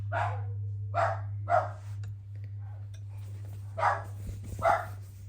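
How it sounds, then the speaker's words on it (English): Dogs bark outside in five or six sharp, separate barks spaced about a second apart. They sound moderately distant over a constant low electrical hum, with a short pause in the middle. "My dogs are freaking out outside."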